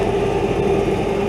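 A New Holland T7.260 tractor engine runs steadily in the snow, a loud continuous low hum and drone with no change in pace.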